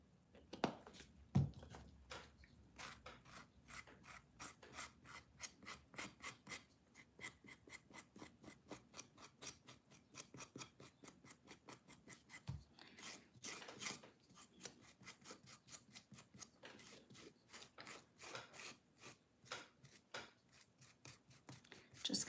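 A brush drags through a generous coat of Mod Podge glue in a decoupage craft, giving soft, steady scratchy strokes that repeat close by, faint and with no talking.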